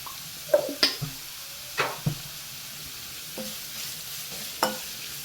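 Onions with salt stirred in a frying pan: a few sharp scraping strokes and clinks spaced across the moment over a faint, steady background sizzle, fairly quiet and close, with no talking.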